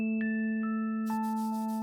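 A short notification bell sound effect plays a few bright, ringing chime tones in quick succession, each note sustaining clearly over a silent background.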